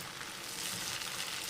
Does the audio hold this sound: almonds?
yes